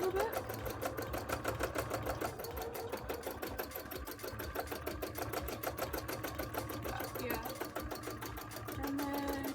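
A sewing machine stitches a bra in fast, continuous rhythmic pulses close by, running steadily throughout.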